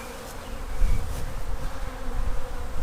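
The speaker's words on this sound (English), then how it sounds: "That makes for some very angry bees." Angry honey bees swarm around an opened backyard hive, a dense, close, continuous buzzing of many insects with individual bees zipping past, no talking.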